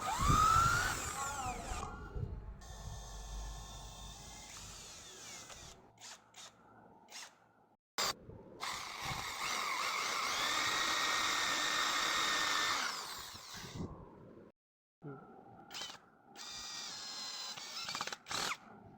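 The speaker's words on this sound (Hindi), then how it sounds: "यहाँ साइडों पे सुराख करके इसमें स्क्रू लगा देता हूँ" A power drill bores holes and drives screws into a wooden log piece for a sword stand, producing several whirring bursts of varying length separated by short silences, close and fairly loud.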